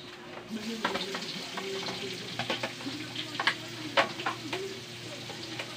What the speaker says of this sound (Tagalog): Tapos pag medyo nagbabrown na po yung bawang, atin na pong ilagay yung sibuyas